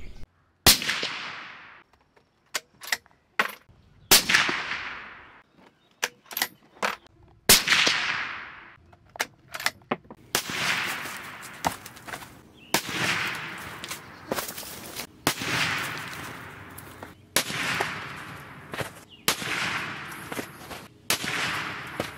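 .308 Winchester rifle fires 150 grain Hornady Superformance SST rounds into ballistics gel, a string of sharp cracking reports, sparse at first and then in quick succession, each ringing out briefly, with no voices.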